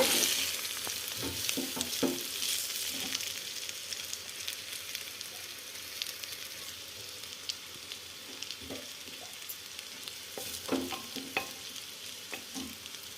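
Rice, moong dal and curry leaves fry in a pan with a steady crackling sizzle, broken by scattered scraping stirs, close and moderately loud with no talking.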